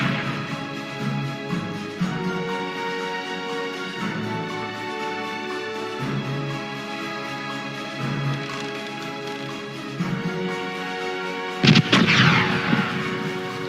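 Ship cannons firing in a naval battle in the pirate game Corsairs Legacy, repeated heavy booms over a droning music bed, with a louder crashing blast near the end.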